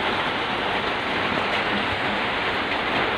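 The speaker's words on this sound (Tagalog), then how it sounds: "malakas ang ulan dito ngayon guys, no? Sa labas, napakalamig." Heavy rain pouring down outside on a cold day, a dense, even hiss of water striking surfaces that holds steady throughout, close and loud with no talking.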